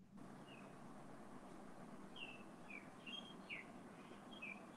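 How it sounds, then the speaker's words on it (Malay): Small birds chirp outside a house, with several faint, quick tweets scattered over a few seconds above a soft, steady background hum. "Ni aku cuma dengar burung-burung berkicauan je kat rumah kau tu, Mia."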